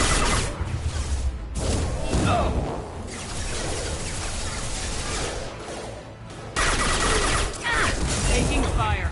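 Dense, sustained gunfire in a Mass Effect Legendary Edition firefight, continuous crackling bursts and impacts with brief gaps, while voices call out over the shooting.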